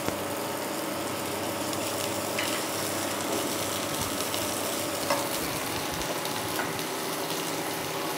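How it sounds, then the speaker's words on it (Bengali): Finely chopped onion fries lightly in a pan, producing a continuous close sizzle with occasional stirring scrapes throughout. "পেঁয়াজটা একটু হালকা করে ভেজে নেবো, খুব বেশি ভাজবো না।"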